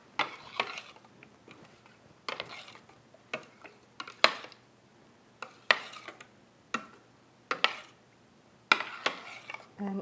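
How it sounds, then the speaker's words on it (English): A spoon stirs homemade Oktoberfest mustard in a bowl, making short bursts of clinking and scraping against the bowl with brief quiet pauses between the strokes. "Stir it."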